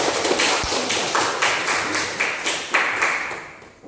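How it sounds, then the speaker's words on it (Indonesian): A school class clapping hands during an Indonesian-language lesson, a short burst of fairly close claps with a few distinct slaps that tails off within seconds. "Ya, tepuk tangan dulu."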